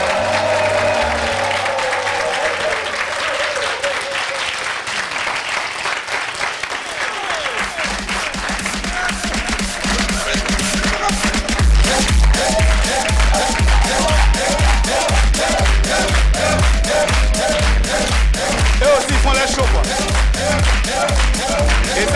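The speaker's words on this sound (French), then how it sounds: "Mamour et Nasser, applaudissements pour eux." Applause from a TV studio audience on a Burkinabè variety show, a dense crowd clapping steadily that swells into loud, rhythmic clapping in time with booming music and drums.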